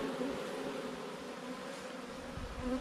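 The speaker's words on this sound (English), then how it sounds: "You can see here's a bee on the edge of the box, just fanning away" A steady, close insect buzz drones throughout, the low hum of honeybees fanning without pause at the edge of a hive box, with no voices.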